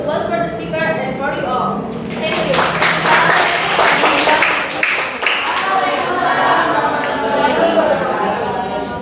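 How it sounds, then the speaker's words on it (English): A seminar audience on public speaking applauds its speaker, a broad wash of many hands clapping that swells after a couple of seconds and continues steadily, with voices chattering underneath. "Finally, give the applause for the speaker and for you all"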